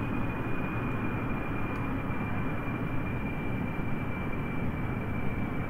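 An aircraft engine drones steadily at reduced throttle while a plane climbs in Kerbal Space Program. The constant, even roar has a faint high whine, keeps a uniform loudness throughout and plays without speech.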